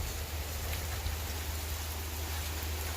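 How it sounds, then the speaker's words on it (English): Heavy rain pours down in Las Vegas, a steady, dense hiss close by with a low rumble underneath, constant and unbroken with no voices. "Alright, still raining pretty hard."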